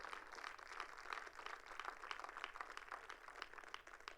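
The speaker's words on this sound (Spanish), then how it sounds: "Denle un fuerte aplauso al Señor." A church congregation applauding, a faint, steady wash of many hands clapping heard from a distance, continuous without pause.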